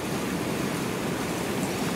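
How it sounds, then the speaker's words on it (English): A swollen river and waterfalls rush after overnight rain in the Harthope Valley, a loud, unbroken roar of churning water close by. "Waterfalls are going wild."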